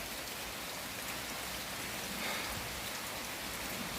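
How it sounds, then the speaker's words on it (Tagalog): Rain pours steadily onto an outdoor work site, a dense, even hiss of falling drops that fills the whole stretch with no voices over it. "inabot na ng ulan si Boy Halabas"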